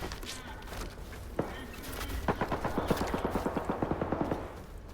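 Gunfire rattles in the S.T.A.L.K.E.R. 2 video game: a few scattered shots, then a steady rapid automatic burst of evenly spaced cracks, fairly distant and faint beneath the ambient noise.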